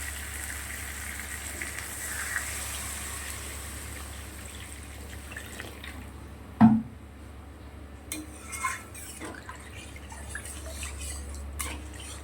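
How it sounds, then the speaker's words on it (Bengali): Broth is poured into a pot of fish curry with potatoes, a faint steady trickle near the pot, broken by one sharp metal clank and a few lighter utensil clinks. "এবার পরিমাণ মতন ঝোল দিয়ে দেবো।"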